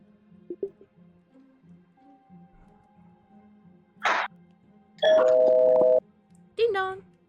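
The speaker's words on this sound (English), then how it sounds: "Ding dong. Oh, you heard that?" A two-tone ding-dong doorbell chime rings out loud and clear in the StreamBuds Art Lobby, sustained for about a second, then a second shorter chime; quiet talk and a brief noise burst precede it.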